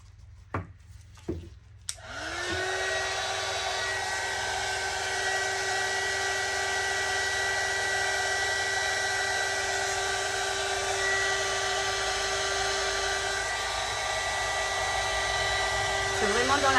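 A heat gun blows hot air over resin on a lazy Susan to form a wave effect, a loud, steady hair-dryer-like whoosh and whine that starts after a few soft knocks and runs on, close by.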